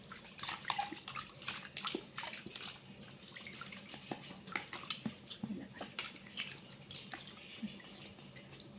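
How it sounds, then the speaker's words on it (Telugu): Water poured and splashed while washing out an electric hot water kettle, irregular trickling and dripping with small splashes throughout, quiet and close. "ఇలా కొంచెం ఇలా వాటర్ వేసేసుకొని ఇలా అనుకుంటూ తడి లేకుండా క్లీన్గా చేసుకోవాలి"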